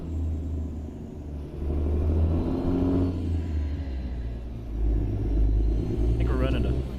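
Kenworth T600 truck engine in American Truck Simulator with a modded engine sound, a steady low rumble that swells and settles as it drives, with a voice talking over it.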